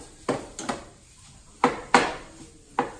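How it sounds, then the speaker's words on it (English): Ground beef is broken up in a cooking pan, a series of sharp utensil knocks and scrapes against the pan over a faint sizzle, with no talking. "So just kind of break that up, the ground beef,"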